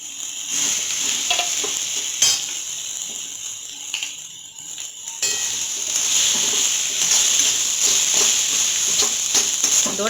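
Boiled, mashed potato stirred into a spiced mixture in a pan, a steady sizzling hiss with scraping stir strokes, loud and close, continuing with no talk.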